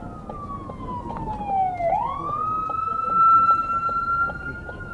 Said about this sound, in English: The first help of an emergency service vehicle in this episode.